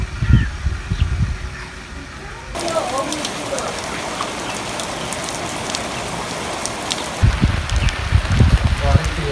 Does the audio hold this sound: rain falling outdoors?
yes